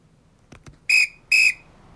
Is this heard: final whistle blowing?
yes